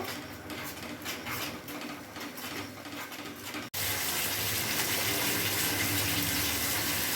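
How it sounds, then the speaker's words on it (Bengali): Water poured into a pan of yogurt-style rohu fish curry: a quiet simmering sizzle, then an abrupt switch to a loud, steady rushing gush of liquid hitting the hot pan up close. "এতে এখন জল দিয়ে দেবো"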